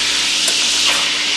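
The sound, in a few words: burger patties cooking in a pan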